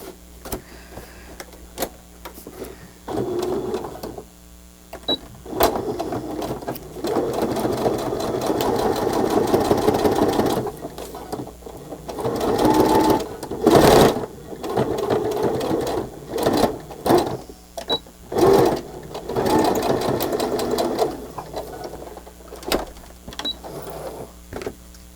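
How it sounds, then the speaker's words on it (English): A sewing machine stitching fabric pockets runs in steady whirring bursts, starting and stopping repeatedly at close range, with brief pauses between runs. "And now getting this all through your machine again."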